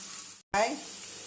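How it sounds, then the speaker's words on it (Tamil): Carrot, capsicum, cabbage and peas sauté in a pan, a brief steady sizzle that cuts out for an instant, then returns with a louder burst as the vegetables are stirred. "எல்லாத்தையும் போட்டு நல்லா வதக்குவோம்."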